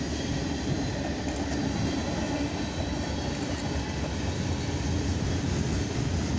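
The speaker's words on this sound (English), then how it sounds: "This is a westbound CSX mixed fright auto rack train." A westbound CSX mixed freight train with auto racks rolls past close by, giving a loud, steady rumble and wheel roar that holds without a break.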